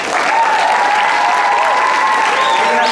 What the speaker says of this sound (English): So if you can give them a round of applause.